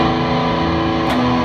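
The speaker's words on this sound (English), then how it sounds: "Put my guitar through all this shit with the Kraken into my DAW" An electric guitar runs through a pedal board into a Kraken and a DAW, sounding as a brief, dense, sustained distorted chord with steady drone-like tone.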